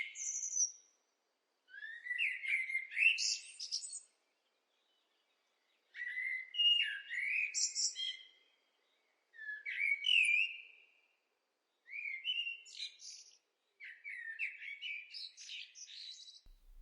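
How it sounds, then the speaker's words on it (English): A blackbird sings alone in clear, well-separated phrases of fluting, warbling notes, about six bursts over the span with short pauses between, fairly close and moderately loud. "listen to the blackbird."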